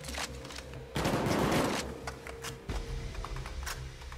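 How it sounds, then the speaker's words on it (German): Sniper rifle shots in the co-op heist game Payday 2, a sharp loud burst near the start followed by scattered shorter cracks and ticking game noise. "Ich höre bloß Sniper-Schüsse."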